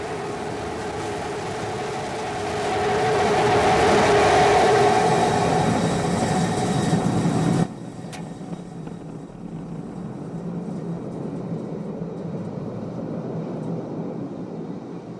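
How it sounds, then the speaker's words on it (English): The SpaceX Starship SN15 rocket engine fires during landing, a loud roaring rumble that swells and holds, then cuts off abruptly, leaving a quieter steady hiss. "have ignition. Starship heading back to the landing zone."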